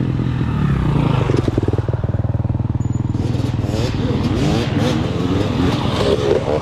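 Close by, a dirt bike's engine revs and rattles as the rider bounces the suspension on a track, with clattering knocks over the continuous motor and someone talking throughout.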